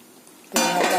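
Milk, made from milk powder and water, pours into boiling potato curry: a quiet simmer, then a sudden steady splashing hiss as the liquid streams in.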